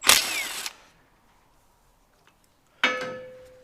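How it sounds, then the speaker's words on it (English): A power tool spins out a fastener while the rear wheel of a 2017 Suzuki V-Strom is being removed for a new Michelin Anakee Adventure tyre. Two loud bursts come close by, with a quiet gap between them. "You have power tools, why not use them?"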